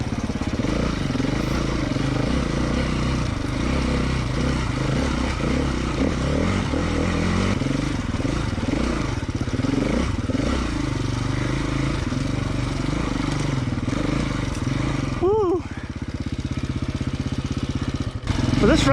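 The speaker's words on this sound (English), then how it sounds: "Now with me this time around is the KTM 250 4-stroke" A KTM 250 EXC-F four-stroke enduro motorcycle, nearly new at under 150 hours, runs steadily and loud throughout on a hard enduro trail ride, with a brief rev change near the end.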